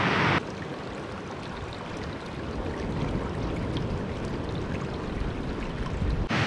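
A freshwater stream near a remote beach in Western Australia flows in a dense, constant rush of water that begins abruptly and stays fairly loud throughout.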